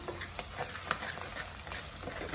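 Green chilies sautéing in oil in a pan for goat intestine curry, a close, continuous crackling sizzle with faint stirring scrapes and no talking.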